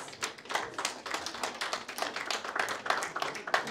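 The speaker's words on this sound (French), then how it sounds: "Est-ce qu'on peut applaudir pour sa présence?" A press conference audience at a hippodrome applauds steadily, dense clapping with crisp individual claps standing out throughout.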